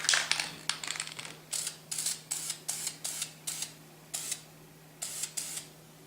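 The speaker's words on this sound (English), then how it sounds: "I'm actually going to pick it up and spray." A series of short, hissing spray paint bursts applying a base coat to a Nerf gun, about a dozen in a loose rhythm, close and fairly quiet over a low steady hum.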